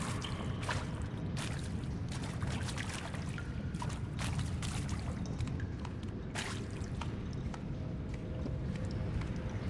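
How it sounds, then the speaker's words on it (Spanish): Feet splash through water in the Horizon Zero Dawn video game, a steady wash of sloshing and trickling with repeated soft splashes throughout, fairly close and continuous. "Los chapoteos de los pies en el agua, el sonido de los murciélagos, todo."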